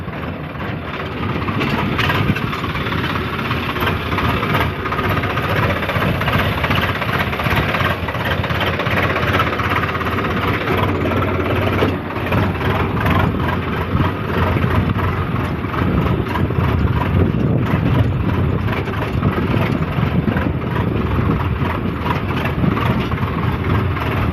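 A Swaraj tractor engine idles close by for the whole stretch, a continuous low rumble with a rough, even chug and no voices.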